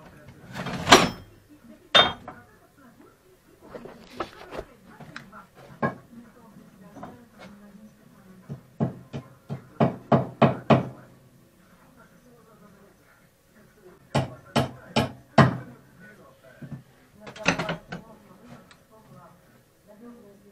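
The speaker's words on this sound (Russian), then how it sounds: "забью я вот пару гвоздей сюда." Nails are hammered into wood with sharp, ringing blows that come in fast bursts of several strikes separated by short pauses, close and loud, with someone talking quietly between them.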